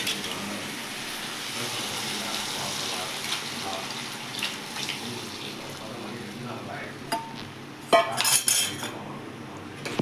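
A utensil scrapes and stirs fish curry in a metal pot, soft and continuous at first, then a few sharper clanks and clatters toward the end.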